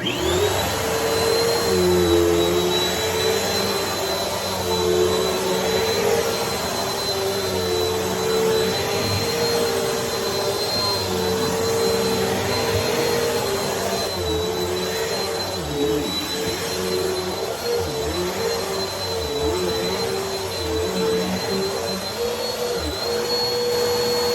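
A BISSELL PowerLifter Pet 2260 upright vacuum cleaner running on medium-pile carpet: a loud, steady, high-pitched whine and roar that holds constant, heard close and alone.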